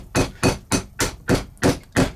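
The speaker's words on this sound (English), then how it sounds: "I'm using a nylon hammer to hit metal" A nylon hammer strikes a metal rivet-setting tool to set saddler's brass rivet burrs, seven evenly spaced sharp knocks in a steady rhythm, close and loud with no talking.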